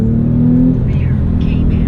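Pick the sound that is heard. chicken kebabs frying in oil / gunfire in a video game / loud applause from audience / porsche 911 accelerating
porsche 911 accelerating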